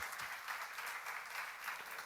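Church audience applause at a seminar, a short steady patter of many hands clapping at moderate distance, with no one speaking.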